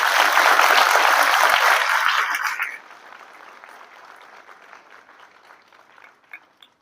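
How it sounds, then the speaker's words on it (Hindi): An audience applauds a doctor: loud, dense clapping for under three seconds that drops off sharply, leaving scattered faint claps and low room noise. "ये डॉक्टर विष्णु के लिए जोरदार तालियां बजाइए।"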